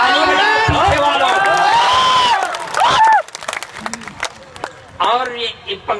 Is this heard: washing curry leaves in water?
no